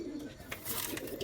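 A pigeon coos softly and fairly close, a short low throaty call lasting about a second, with faint background noise.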